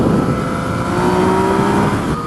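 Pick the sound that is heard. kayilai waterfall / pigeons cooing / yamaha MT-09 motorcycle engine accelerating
yamaha MT-09 motorcycle engine accelerating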